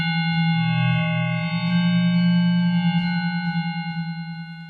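A Waldorf Iridium synthesizer resonator plays a sustained buzzy, harmonically rich tone that pulses through a series of repeating echoes, eight repetitions fading gradually toward the end, with no voices.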